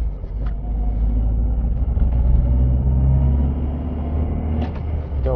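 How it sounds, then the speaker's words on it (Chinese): The engine of a Toyota HiAce H100 van gives a low, steady whooshing drone heard from inside the cabin, swelling and easing gently over several seconds with faint clicks and rattles on top. "就是丰田的这发动机的一种呼呼的声音"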